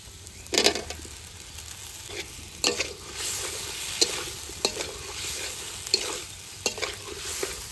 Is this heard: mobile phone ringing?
no